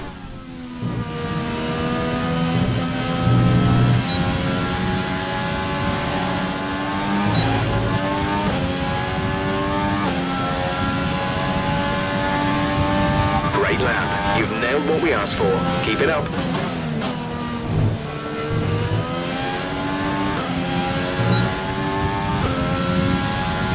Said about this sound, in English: I'm gonna let you listen to the engine sound of the Renault engine supplied Lotus there.